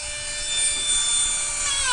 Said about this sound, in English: a die grinder is basically a glorified Dremel